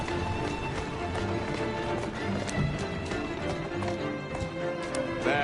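Horse hooves clip-clop at a steady walking rhythm in the video game Assassin's Creed Syndicate, moderately close, with quieter background game sounds.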